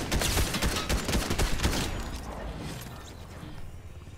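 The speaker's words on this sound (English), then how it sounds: "he didn't even care that I was shooting him" Rapid bursts of automatic gunfire in the video game Fortnite crackle loudly for about two seconds, then fade into a lingering decaying tail with no voices.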